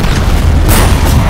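A small bomb goes off in a video game, a loud, dense boom with heavy low rumble that holds steady for over a second with no voices over it.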